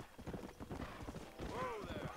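Rapid hoofbeats of a black horse in the video game Red Dead Redemption clip-clop under a voice, with a brief high whinny near the end.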